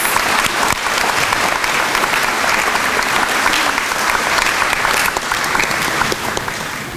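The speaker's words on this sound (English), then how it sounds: "another round of applause for these students" Sustained applause from an awards night audience honouring students, dense steady clapping that carries on without a break for the whole stretch, with a faint crowd murmur underneath.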